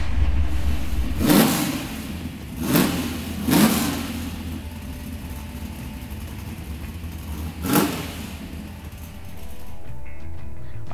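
A 1967 Chevrolet Camaro Super Sport convertible idles with a deep, steady rumble, and its engine is revved in four sharp, loud blips, three in quick succession and one later, before settling back to idle.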